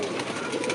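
Pigeons coo softly and continuously, a low murmuring warble from several birds nearby, with no voices over it in this brief moment.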